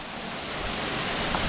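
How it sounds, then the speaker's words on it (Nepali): The Rani Jharna waterfall in Dhading roars as a steady, broadband rush of falling water, constant and close, with no voices. "झरना देख्न सक्नुहुन्छ झरनाको पानी देख्न सक्नुहुन्छ"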